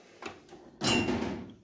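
A toolbox drawer slides open in a brief scraping rush after a couple of faint knocks, fairly close and heard alone.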